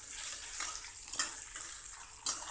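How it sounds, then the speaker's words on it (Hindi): Potatoes sizzling in hot oil with browned garlic in a home kitchen pan, a soft steady frying hiss broken by light scrapes and clinks of stirring, faint and close. "आलू को हमें फ्राई करना है"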